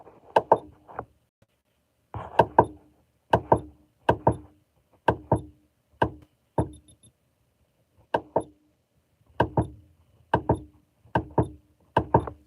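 Repeated tapping and knocking on a Sony radio as a hand touches its casing, in a series of sharp, close taps grouped in twos and threes with short pauses between, no talking.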